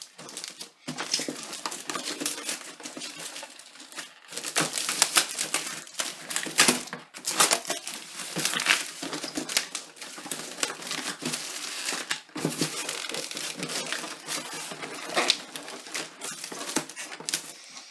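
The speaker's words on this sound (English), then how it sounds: "I should be able to rip it from here." Tight foam packaging being torn open on a Daming DM007 box, with continuous close crinkling, crackling and ripping textures across the whole stretch and brief pauses between pulls.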